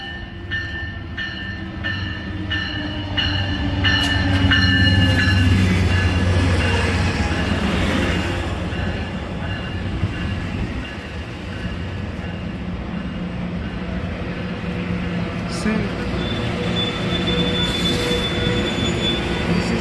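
An Amtrak Pacific Surfliner train passes south of San Diego, a loud sustained rumble of railcars with repeated high metallic wheel squeals and screeches rising over the roar, no voices.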